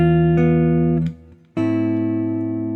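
Sustained keyboard chords ring out, fade briefly into a short gap, then another chord sounds strongly and holds; no speech.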